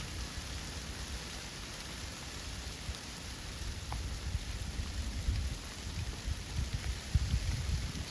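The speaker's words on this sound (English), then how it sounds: "sleeting pretty hard. That ain't raindrops you see bouncing off of that." Heavy sleet falls hard during a storm in the Rocky Mountains, a dense, steady patter of pellets striking and bouncing off surfaces close by, with no voices.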